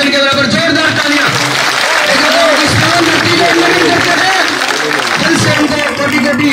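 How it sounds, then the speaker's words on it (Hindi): A rally audience in Bega village, Gannaur, applauds loudly and continuously, with dense clapping sustained throughout while a voice carries on over it. "जोरदार तालियां।"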